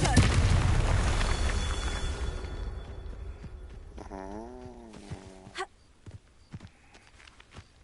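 A Confringo fire curse bursts in Hogwarts Legacy with a heavy, booming blast that fades over a few seconds, then a wavering magical tone rises and falls before sharp clicks and light thuds trail off.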